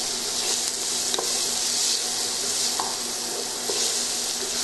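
Bolognese sauce with cinnamon sizzles steadily in a pan as it is stirred, a continuous bright hiss broken by a few soft scraping knocks of the spoon, with no voices.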